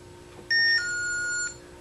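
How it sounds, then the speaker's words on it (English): A motion sensor alarm sounds a single electronic beep chime, a bright two-tone ding that holds for about a second before cutting off, near and clear over a quiet room hum. "Something walks by outside, down the driveway or whatever, it alarms and lets me know something's there"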